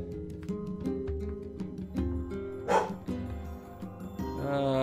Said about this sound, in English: you gotta love the dog's good bork bork